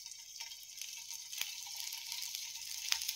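Chicken keema vade frying in hot oil on a tawa over a low flame, a soft steady sizzle with a few sharp crackles and spits, faint and close, no talk.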